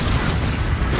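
A Confringo blast curse erupts in Hogwarts Legacy, a loud, sustained booming explosion with heavy low rumble filling the whole second and no voices.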